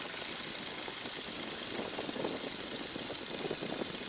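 Stearman N2S-3 biplane radial engine throttled back to about 1,500 RPM in flight, a steady rough, knocking drone heard up close from the cockpit under constant wind noise, with no talking.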